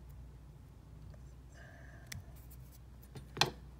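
A single small snip as the thread tag on a fishing jig head is cut, quiet and close, preceded by faint handling sounds over a low background hum.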